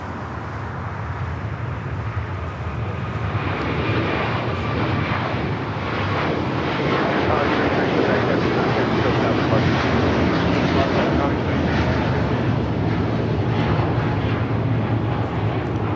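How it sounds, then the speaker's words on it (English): A Qatar Airways Airbus A350-1000 takes off from LAX toward Doha, its jet engines building into a loud, broad roar that swells and holds over sixteen seconds, with a voice occasionally talking over it. "That is Qatar Airways Flight 740 taking off to Doha on the A350-1000"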